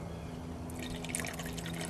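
Water is poured into a measuring cup in a home kitchen while testing a chicken and dumplings recipe, a faint trickling splash with small droplet sounds over a low background hum.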